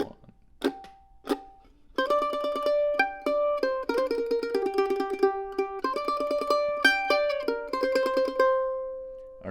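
A mandolin plays a lick from a tune: a few plucked notes, then a run of bright, close, clean notes ringing out alone and fading at the end.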